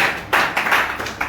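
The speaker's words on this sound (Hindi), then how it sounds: "तालियां जोरदार होनी चाहिए।" An audience claps in several loud bursts, a sharp sustained run of applause rising and falling over about a second, with brief gaps between the surges.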